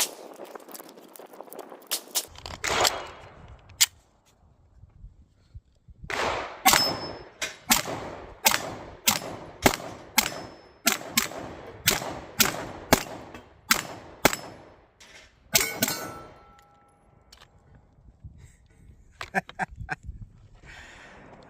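Rapid gunfire from a Sig Sauer P320 M18 pistol at steel targets 15 yards out: dense volleys of sharp, loud cracks with ringing metallic strikes, a short burst early, then a long fast string and a final flurry.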